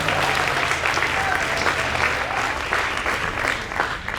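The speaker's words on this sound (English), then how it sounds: "that was the applause pause" Audience applause fills a school prize day hall, a steady dense clapping that holds at an even level throughout, with a faint murmur of voices underneath.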